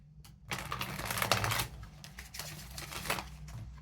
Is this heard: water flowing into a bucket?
no